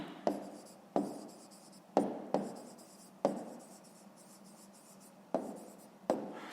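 A pen writing on paper while working a 5th-grade maths fraction exercise, a series of close, distinct tapping strokes and scratches at an uneven rhythm, each stroke fading quickly, with no talking.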